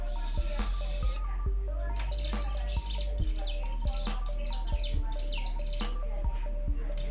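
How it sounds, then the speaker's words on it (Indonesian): A ciblek gunung (mountain prinia) sings softly in captivity, giving scattered short chirps and trills at an irregular pace over a steady low electrical hum. "burung ciblek gunung ini kicauannya masih pelan"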